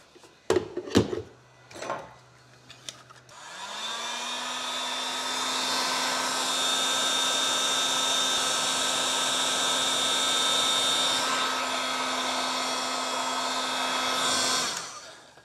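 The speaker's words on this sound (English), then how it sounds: "let me show you why we don't want to use a heat gun to do this" A few handling clicks and knocks come before a heat gun switches on and blows a steady, loud whirring hiss with a constant high whine while heating a 3D printed part, then cuts off near the end.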